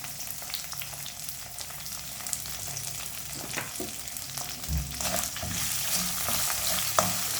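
Crushed ginger being sautéed and stirred in a pan while making mango ginger pickle: continuous close frying sizzle broken by scraping stir strokes and a few sharp clicks, with no speech.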